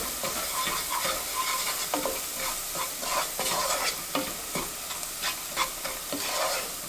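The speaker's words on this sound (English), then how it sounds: "I'm going to now add the salt, black pepper, and the nutmeg. And we're going to give that a good stir." Onions with salt, black pepper and nutmeg stirred in a hot pan, a soft steady sizzle broken by repeated rhythmic scrapes of a spoon against the pan, close and alone.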